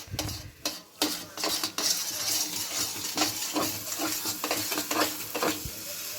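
Moong dal halwa with sugar is stirred in a kadai, a spoon scraping and clinking against the metal in repeated strokes over a soft sizzle, close and fairly loud, with no voices.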